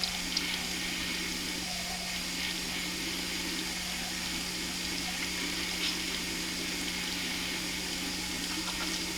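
Steady running water from a tap during handwashing in a hygiene lesson, a continuous moderate rush with a faint low hum beneath, unbroken for the whole stretch.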